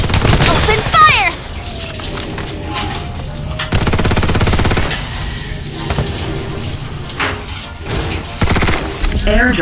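Rapid automatic gunfire from the Farlight 84 battle shooter on mobile, dense bursts crackling loudly through most of the stretch amid other game noise, with a voice speaking briefly near the start.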